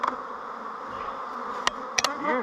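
Honeybees from a hot-tempered colony swarm around a hive as pollen traps are fitted, a dense close buzzing drone with individual bees zipping past the microphone.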